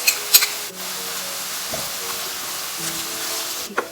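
Garlic, ginger and green chillies sautéing in a pan give a soft, steady sizzle and hiss, broken by a few faint clinks and stirring scrapes.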